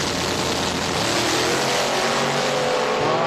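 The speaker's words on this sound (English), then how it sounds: "Spun the tire so hard" A drag racing car at an elimination event spins its tire hard, giving a loud, continuous high-revving engine roar with broadband tire noise that holds steady throughout.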